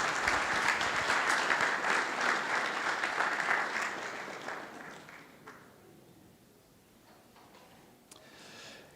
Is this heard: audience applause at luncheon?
yes